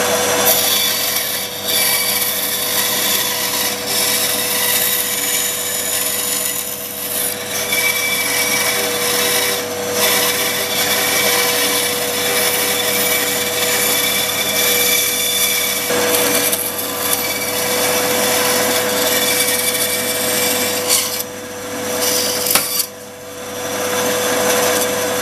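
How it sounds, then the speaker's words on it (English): A band saw fitted with a new 1/4 inch blade cuts a wooden baby rattle, producing a continuous loud, bright rasping whine. Brief dips come and go as the cut shifts. "Just put a new 1/4 inch blade in and I'm ready to cut it out."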